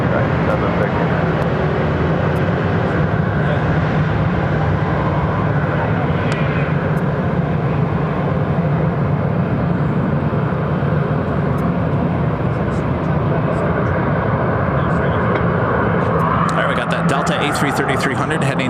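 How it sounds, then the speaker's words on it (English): An Airbus A330-300 at Phoenix airport starts to taxi, its jet engines giving a steady loud whine and roar close by for the whole stretch. The whine rises near the end, and talk runs over it throughout. "A330-300 heading back to Atlanta. Now starting taxi."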